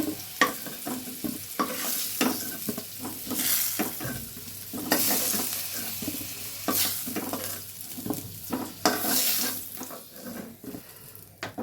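Potatoes frying in hot oil in a pan while being stirred, with close, repeated scraping strokes over a steady sizzle and no talking.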